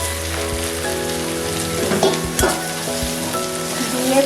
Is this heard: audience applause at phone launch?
no